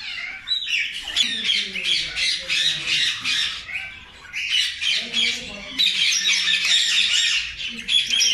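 Parrots in a breeding aviary, including yellow ring-neck parakeets, squawk loudly and continuously in harsh, overlapping repeated calls close by, with a person talking underneath.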